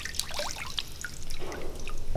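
Water drips and trickles off a carbon fiber piece as it is lifted out of a hydro-dipping tank, with scattered small drops and a soft running trickle nearby, fairly quiet and without speech.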